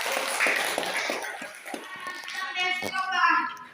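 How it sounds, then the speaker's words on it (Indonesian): Children in a primary religious-studies classroom clap briefly when praised by their teacher. The clapping is mixed with overlapping young voices and teacher speech throughout. "Ya, bagus. Tepuk tangan."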